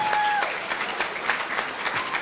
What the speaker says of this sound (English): Let's clap it up for the sophomores.